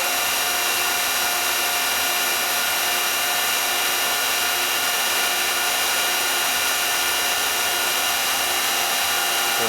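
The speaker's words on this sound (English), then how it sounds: "Activated the close button. It's fast close mode, and it'll shift to pressing." A refurbished Viceroy hydraulic press closes in fast mode and shifts into pressing, giving a steady, loud mechanical hum with a dense whine that holds evenly throughout, with no talking.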